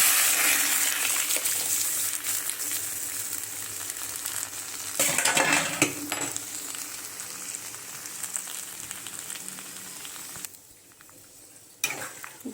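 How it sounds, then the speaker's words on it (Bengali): Masoor lentils frying in boiling oil in a home kitchen, a loud, continuous close sizzle with bursts of hissing and a few scraping stirs, thinning out toward the end. "এই ফুটন্ত অবস্থাতেই ডাল ভেজে"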